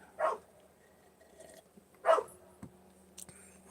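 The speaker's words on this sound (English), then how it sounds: "Oh, Jack's barking." Two short dog barks about two seconds apart, moderately close, with quiet background and a faint thump afterward.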